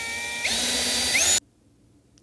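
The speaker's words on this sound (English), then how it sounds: "this guy needs a hole drilled in the middle" Small power drill boring a hole through the middle of a plastic servo part, with a close, steady high-pitched whine for about a second that stops abruptly, leaving near silence.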